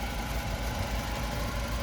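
A 2005 Kia Cerato gasoline sedan with an automatic transmission idles with its hood open, giving a steady, even engine hum with a faint rapid ticking pulse, close up and continuous, with no talking.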